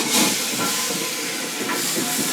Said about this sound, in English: that's the toilet filling up